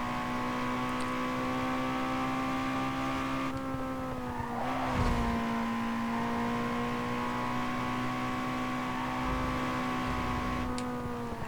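A race car engine in Need For Speed Underground 2 drones steadily at high revs for the whole stretch, with a brief tire squeal and a shift in pitch partway through, loud and continuous with no talk.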